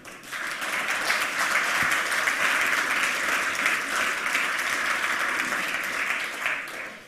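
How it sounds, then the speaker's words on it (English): A conference audience at the 27C3 hacker congress gives a warm round of applause for a speaker, a loud, even stream of clapping that rises quickly, holds steady for several seconds and fades at the end. "please give him a warm round of applause"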